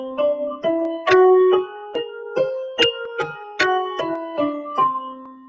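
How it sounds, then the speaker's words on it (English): A melodic instrument runs up and down a whole tone scale in evenly plucked or struck notes, each note clearly separated with a short decay, giving a dreamy, floating sequence with no talking. "so whole tone scale sounds like this."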